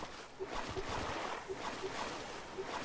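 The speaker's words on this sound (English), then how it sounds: "Why is the waves really loud?" Ocean waves in the video game Stranded Deep wash and rush steadily around a small boat at sea, a soft continuous surge with faint periodic knocks and creaks.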